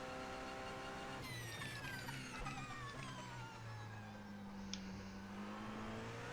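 An LMP2 prototype race car engine in the iRacing Daytona 24 Hours screams up through the revs, shifts and climbs again, with another car droning beneath, loud and continuous without talk.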